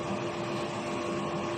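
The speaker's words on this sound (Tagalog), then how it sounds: "Ito po yung printer area." A DTF printer running in a print shop, a steady loud mechanical whir with a constant tonal hum and no breaks.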